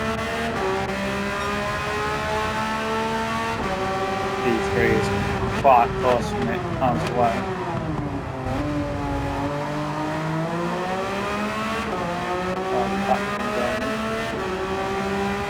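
A race car engine in a racing video game drones and revs, its pitch dipping and climbing as it accelerates, with a brief tyre squeal along the way. Someone talks over the engine throughout.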